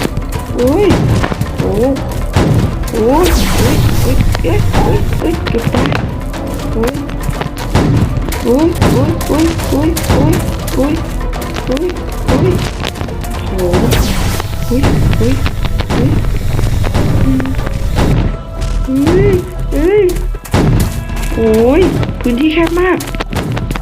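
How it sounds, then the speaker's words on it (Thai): Rapid gunfire in the scary obby game Mr Nightmare's School, with dense loud thumping shots running almost continuously under a player's excited talking and game music. "ช่วงนี้เราก็ยิงไปก่อนนะคะ"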